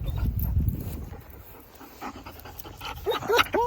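A working dog pants during an IGP3 championship-level tracking exercise, rapid breathy puffs growing clearer and closer toward the end, with faint low rumble earlier and no talk.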